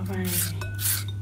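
Rasping strokes of carrot shredded into thin strips for a cucumber salad, two or three close scraping passes over a constant low hum.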